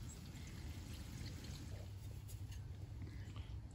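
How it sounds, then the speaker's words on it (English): Coleman Camp Fuel being poured into a camp stove's tank, a steady, faint liquid trickle and gurgle running continuously with no talk. "So you are putting fuel in."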